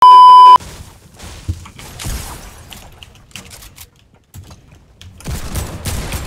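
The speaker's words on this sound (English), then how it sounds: "I just got the most savage jumping headshot on this guy with the deagle" Desert Eagle pistol fire in Fortnite, a few sharp gunshot bursts scattered among game effects and a short electronic beep at the start, loud and close.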